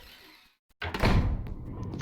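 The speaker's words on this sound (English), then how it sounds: "It involves me going through this door." A door opening in Resident Evil's mansion: a brief silence, then a loud heavy thunk that rolls into a rumbling, scraping swing which lingers and fades slowly.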